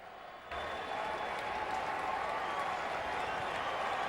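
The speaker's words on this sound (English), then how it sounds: "listen to the crowd as Aramis Ramirez is announced." A baseball stadium crowd at a Cincinnati Reds at Chicago Cubs game cheers and applauds as a pinch hitter is announced, a broad steady roar of clapping that swells in after a brief quieter moment and holds for several seconds.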